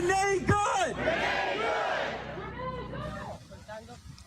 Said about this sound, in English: massive crowds flooding the street in the aftermath of that shooting